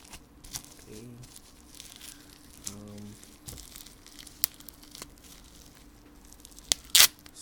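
Tape being torn and peeled off a Dragon Ball Z Battle of Gods case, a few short ripping and crinkling bursts close to the microphone, followed by a sharp crackle near the end, with sparse talking.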